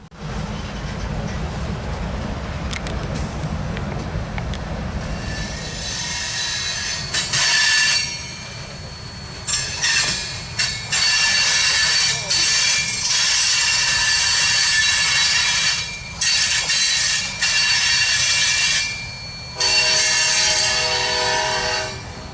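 A freight train rumbles past close by in South Florida, wheels grinding and squealing loudly with rhythmic clatter, the noise surging and dipping as cars roll through.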